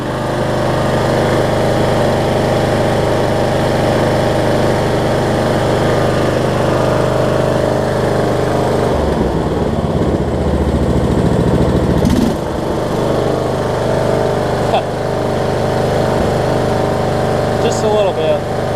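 A Troy-Bilt Bronco riding mower, converted from a Kohler to a Briggs engine, runs steadily at a loud close idle with a constant droning hum, briefly rising and roughening partway through.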